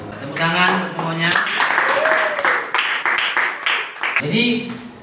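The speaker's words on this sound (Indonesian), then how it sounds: "Tepuk tangan untuk semuanya." A classroom of students claps for everyone, a brief burst of applause in the middle, with the teacher talking just before and after it.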